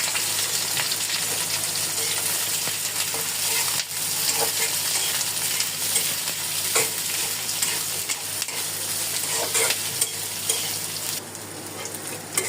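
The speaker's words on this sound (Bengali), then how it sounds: "তেলটা একটু গরম হচ্ছে, দিয়ে দিচ্ছি পেঁয়াজ আর কাঁচামরিচ কুচি।" Chopped onion and green chilies fry in hot oil with a dense, close sizzle throughout, broken by light stirring scrapes and taps. Nobody talks.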